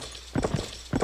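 Horse hooves clip-clop in the Mount & Blade: Warband video game, a few quick, close, thudding footfalls in an uneven rhythm over a steady game background.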